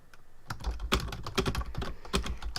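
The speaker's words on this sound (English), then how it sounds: "you again click on the text so you can type over it" Keys clatter on a computer keyboard in quick, uneven bursts of close, crisp taps, with no voices.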